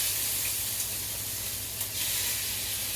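Garden vegetables sizzle in a hot skillet for breakfast tacos, giving a steady, loud frying hiss throughout with a faint low hum beneath and no talking.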